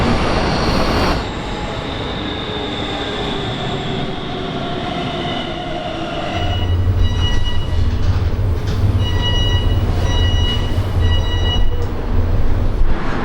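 Inside an empty Hamburg U-Bahn metro train on the move: a loud, steady rumble of wheels and motor, with high squealing tones as it rounds a curve and a deeper droning growl as it picks up speed.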